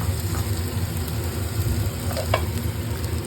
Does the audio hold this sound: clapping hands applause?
no